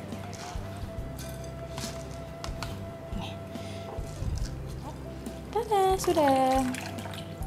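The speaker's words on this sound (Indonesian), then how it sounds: "aku mau tirisin dulu ketan dari airnya dulu nih ya" Water drains from soaked glutinous sticky rice in a kitchen, a steady trickle and splashing with light clatter, while a voice speaks briefly over it near the end.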